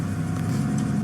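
A car engine runs steadily at close range, a continuous low rumble with no revving and no voices.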